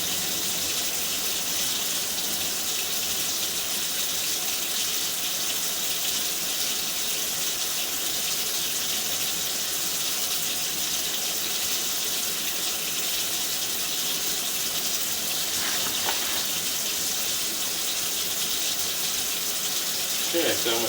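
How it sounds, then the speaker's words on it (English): A steady, full rush of water pours down a drain pipe at a house, a constant gushing hiss that runs without a break for the whole stretch, close and unchanging. "You can see all that water is making its way in there."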